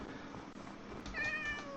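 A cat meows in the video game Minecraft, a short, faint, soft mew that rises near the end of a brief, quiet moment, heard alone.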